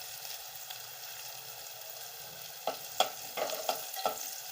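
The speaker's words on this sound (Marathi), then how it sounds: "लसूण असं चांगला लाल परतून झालेला आहे" Garlic frying until reddish-brown in a pan for a Marathi bitter gourd (karela) bhaji: a steady soft sizzle, then a few sharp stirring scrapes and clicks near the end, with no talking.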